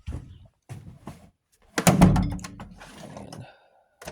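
Wooden drawer pulled open and rummaged while hunting for a screwdriver during a home engine rebuild: a few soft knocks, then a louder rattling slide and clatter of tools, fairly close, with no talk.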